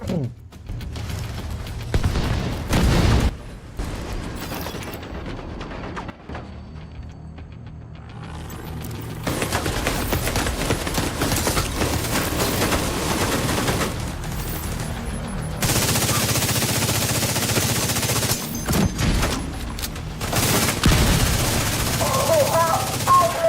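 In The Division 2, gunfire hits the armour plates on an MTV vehicle: repeated bursts of automatic fire and booms, some near, some farther off, with someone talking over much of the action.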